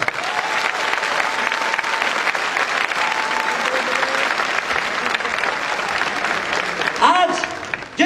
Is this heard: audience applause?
yes